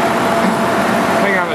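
A car engine idles smoothly and steadily, a constant close broadband hum and whir with no revving, filling the short stretch alone.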